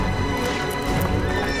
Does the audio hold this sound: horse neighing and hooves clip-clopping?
yes